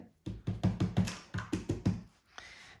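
A rubber stamp presses a happy birthday greeting onto a card laid on a foam sheet: about ten close, dull thumps in quick uneven succession, then a soft rustle.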